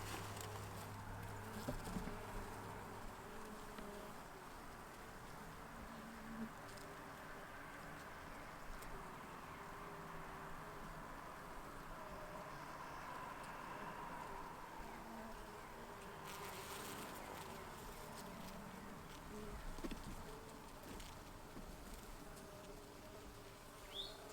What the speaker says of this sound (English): cluster of bees here too.